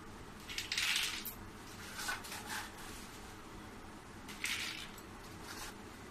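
Crisp fried namak pare, made from wheat flour and gram flour, dropped onto a plate: a few faint clinking clatters with quiet stretches between them, over low background noise and no speech.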